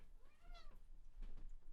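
A house cat gives a single clear meow close by, followed by a brief rustle in an otherwise quiet room.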